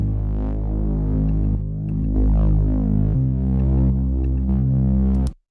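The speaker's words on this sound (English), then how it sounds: "which is why I decided to add a saturator to it." A Reese bass synth with a saturator added drones in thick, gritty sustained low notes with a wobbling detuned throb, changing pitch a few times before stopping sharply.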